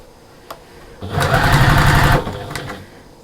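A sewing machine stitches through two layers of a fabric storage caddy near bias tape, running in one steady loud burst of a little over a second, with a few faint clicks before and after.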